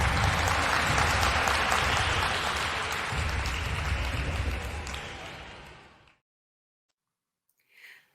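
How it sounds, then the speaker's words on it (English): Applause for the 2021 inductees at the 37th annual Broward Senior Hall of Fame luncheon, a loud, steady round of clapping for about six seconds that fades into silence. "Let's give a round of applause to the 2021 inductees."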